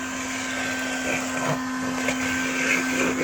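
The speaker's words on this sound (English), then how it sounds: "Plug it in here and you create a vacuum cleaner." Homemade 12-volt vacuum cleaner running close by with a steady, loud motor whine and a constant airy rush, unchanging throughout.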